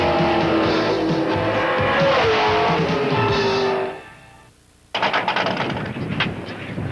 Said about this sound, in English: 355 Pro Stock motor. It's a restricted type of motor with a 2-barrel carburetor, and it makes about 340 horsepower.